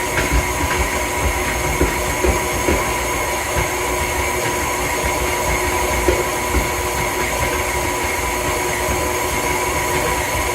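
A stand mixer steadily working wet sourdough English muffin dough, a continuous dense motor whir with a faint rhythmic churn, loud and unbroken with no talking.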